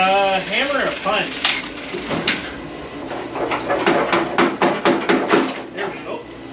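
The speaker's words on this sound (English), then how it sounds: "Hammer and a punch." A hammer drives a punch into a C1 Chevelle's body panel during a cut-up: a run of sharp, ringing metallic strikes in quick succession, close and loud, with people talking around it.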